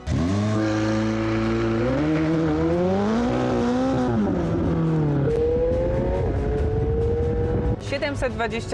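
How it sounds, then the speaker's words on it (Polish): A McLaren 720S twin-turbo 4-litre V8 engine revs and climbs through the gears, loud and close, its pitch rising and falling with each shift. "ma podwójnie doładowany silnik V8 o pojemności 4 litrów"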